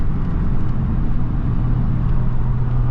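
Inside a 1987 Nissan D21 pickup truck cruising in 5th gear at 65 mph and 2,800 RPM, a constant loud drone of engine and road noise fills the cab, with no talking.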